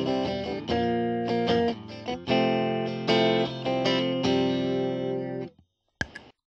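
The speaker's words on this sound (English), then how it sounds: "this is my attempt to show it can actually do some low gain stuff" Electric guitar played with a low-gain, lightly overdriven tone through an OLC Orange Peel pedal, ringing chords in a steady strummed rhythm, loud and close, ending with a brief separate noisy strike.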